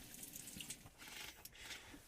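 Water runs from the handheld shower tap in a campervan bathroom, a faint, steady splashing trickle with small irregular drips and spatters, heard alone.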